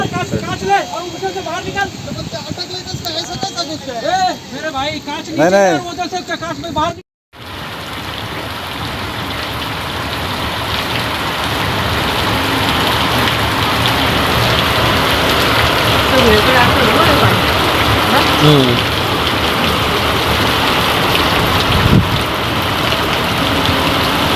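Heavy unseasonal rain with hail pours down in the Khardi–Washala area of Shahapur taluka, a steady loud roar of rain and hail that continues without a break after a short pause, with voices talking over it.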